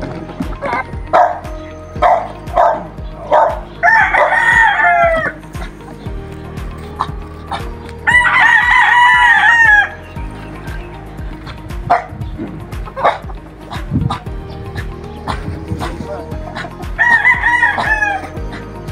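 A rooster crows loudly several times over a busy farmyard in the Philippines, with clucking fowl and dogs barking nearby and voices in the background.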